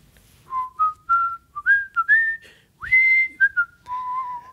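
Someone whistles a short, wandering melody up close, with clear separate notes and brief pauses between phrases.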